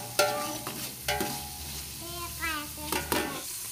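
Chicken bones are stirred in a hot pan while making steak sauce, a soft sizzle underlying repeated scraping strokes and clanks of a utensil against the pan, close and moderately quiet.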